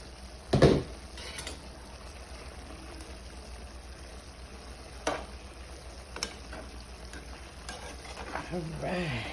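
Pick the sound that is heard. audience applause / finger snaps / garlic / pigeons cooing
garlic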